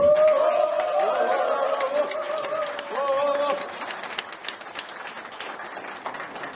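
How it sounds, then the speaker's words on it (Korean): Applause breaks out at a 2016 club reunion to welcome a member's widow. Scattered clapping sounds under voices and a sustained tonal sound for the first four seconds, then thins to lighter patters. "큰 박수 부탁드리겠습니다"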